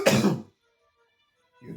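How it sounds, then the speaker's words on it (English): A person gives two short, close coughs: a harsh burst at the start, a pause of near silence, then another beginning just as the clip ends. "I'm just coughing."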